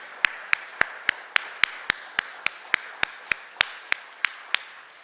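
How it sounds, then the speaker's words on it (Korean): A church congregation at a Sunday service claps in steady unison, a run of about eighteen crisp, evenly spaced claps at a brisk regular beat over quiet room noise. "하나님께 영광의 박수 올려드립니다."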